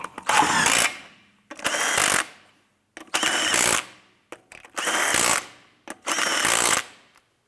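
Lug nuts on a 2005-2007 Ford Five Hundred wheel are snugged down with a power tool: five loud, close bursts of impact hammering, each about a second long, separated by short pauses.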